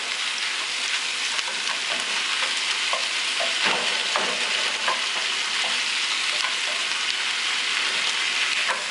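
Chicken simmers in a Foreman skillet over medium heat, giving a steady close sizzle with scattered pops and crackles throughout.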